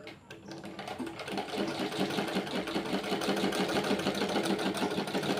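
A sewing machine stitches a sleeve onto a nightgown through thick piping, starting slowly, then running as a steady, close, rapid mechanical whirring rattle.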